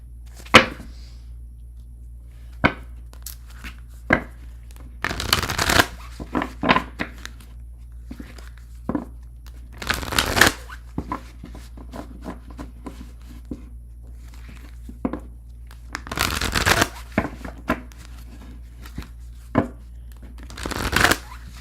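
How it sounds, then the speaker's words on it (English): Tarot cards are shuffled by hand in repeated short riffles and slaps, close and crisp, with quieter taps and shuffling between the bursts. "I'm going to shuffle and we'll move on to Cancer."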